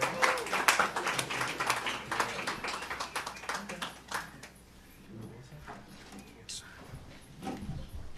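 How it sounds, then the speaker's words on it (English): A round of applause for jazz musicians at a Sunday church celebration, loud crisp clapping at first that thins and fades partway, then scattered claps pick up again near the end. "Let's have a round of applause for these jazz guys."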